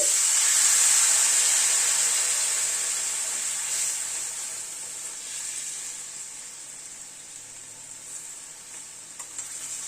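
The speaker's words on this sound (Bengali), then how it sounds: "এবার একটু গরম জল দিয়ে দিচ্ছি" Hot water poured into spice masala frying in a pan for a mourala fish chorchori, giving a loud, steady sizzle and hiss that slowly fades as the water settles.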